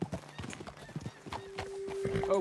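Horses in a Red Dead Redemption 2 frontier scene, hooves clip-clopping in short irregular bursts as riders dismount, followed by a sustained whinny and snorting near the end.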